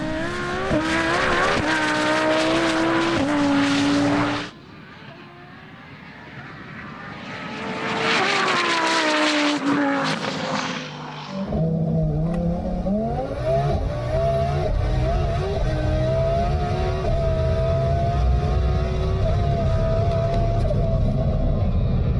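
A 1500hp car makes a full pass at a drag racing event, its loud engine roaring through rising revs with a brief drop between gear changes, then holding a sustained high-pitched howl as it pulls away.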